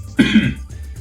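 A single sudden cough from a nearby sick person, short and throaty with a rough burst followed by a quieter tail.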